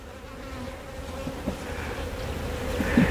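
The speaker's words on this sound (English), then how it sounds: "these bees over here will go back in there" Continuous low buzzing of bees close by at an open beehive, a steady drone with a few louder passes as individual bees fly near.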